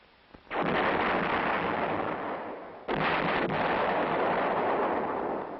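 A 1965-era corps general support field artillery gun, with variable recoil like the 8-inch howitzer, fires two loud heavy booms, each rolling out in a long sustained rumble that nearly fills the clip.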